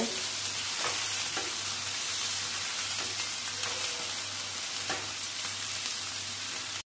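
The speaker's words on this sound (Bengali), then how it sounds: "পেঁয়াজটা একটু লাল করে ভেজে নেব।" Sliced onions fry in a pan with spices, a steady, dense sizzle that runs throughout, broken by periodic scraping strokes as they are stirred. It is close and fairly loud, with no talking.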